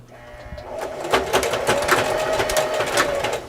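A sewing machine runs straight stitches through folded scrap fabric strips for a rag rug, a steady close whirring chatter of the needle that builds after the first second and continues without pause.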